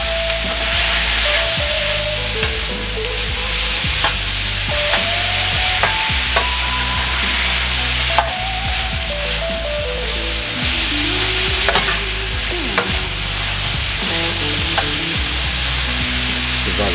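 Vegetables and garlic fry and are stirred in a pan for a copycat cheesesteak, giving a steady close sizzle with frequent scraping and stirring clicks throughout, no talking.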